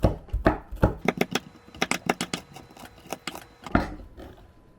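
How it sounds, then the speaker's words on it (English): A spring onion being cut up for miso soup, a quick series of close, crisp chopping or snipping strikes in irregular bursts, with no talking. "Cut up one spring onion."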